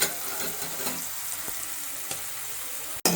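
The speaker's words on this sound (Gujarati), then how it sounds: "આ બધું એક સરખું આપણે સાંકળી લેવાનું છે તેલમાં, એટલે જે આપણે લીલા શાકભાજી છે એ બધા સરસ એમાં ચડી જાય" Green vegetables for chow mein stir-fry in hot oil with a steady, loud sizzle, broken by a few soft clatters of stirring and a sharp knock near the end.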